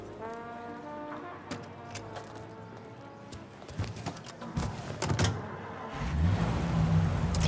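A car motoring along in Mafia: Definitive Edition, its engine humming steadily through a 1930s city street scene, with harmonic tonal layers, some clattering hits and a louder low rumble building toward the end.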